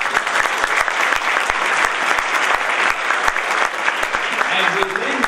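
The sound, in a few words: audience applause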